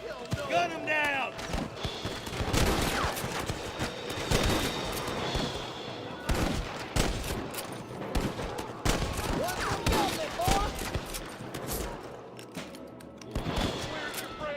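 Gunfire rings out in the Red Dead Redemption video game, with repeated sharp shots in irregular bursts amid a busy fight, and voices shout over the shooting.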